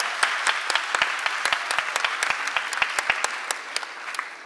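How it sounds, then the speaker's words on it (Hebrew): Audience at a national youth Bible quiz clapping, a lively burst of sharp, fairly close handclaps in quick irregular rhythm, steady for a few seconds and without speech. "מה, לא מגיע לו מחיאות כפיים?"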